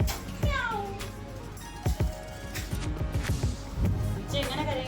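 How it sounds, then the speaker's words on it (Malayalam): A cat meows in a home during an Onam gathering: a couple of rising, drawn-out meows, near and fairly loud, mixed with people talking and household clatter. "ആമയല്ല പൂച്ച"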